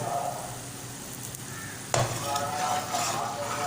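Onion masala for chicken kofta fries and is stirred in a pan: a steady close sizzle with scraping stir strokes, and one sharper scrape partway through.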